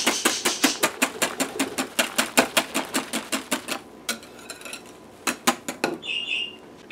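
A wire whisk beats eggs for custard in a bowl, fast rhythmic metallic clicks in steady bursts, pausing briefly and resuming, close and clear.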